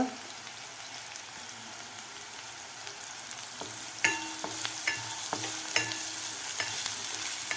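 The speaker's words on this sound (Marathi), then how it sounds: "आता कांदा आपल्याला व्यवस्थित 2 मिनिट परतून घ्यायचा आहे।" Chopped onion sautéing in a pan, giving a steady close sizzle with a run of rhythmic spatula scrapes and taps in the second half.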